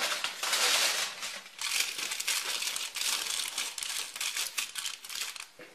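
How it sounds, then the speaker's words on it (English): Tin foil crinkling and crumpling up close as it is laid on an oven rack for drying blueberries, a continuous rustling with sharp crackles throughout and no voices. "So now place a tin foil on the right side of the rack and spread the blueberries out to dry"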